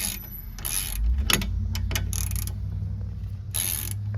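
A socket wrench works on the brake caliper bolts of a Lexus RX, giving a run of sharp metallic ratchet clicks and knocks close up, with a few louder bursts spread across the moment and no talking.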